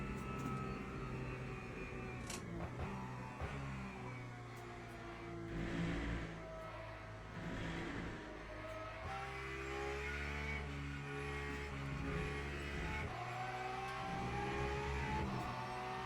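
A Porsche race car engine revs and accelerates steadily in a racing video game at Spa or Fuji, a continuous loud mid-pitched drone with rising and falling pitch sweeps and no talking.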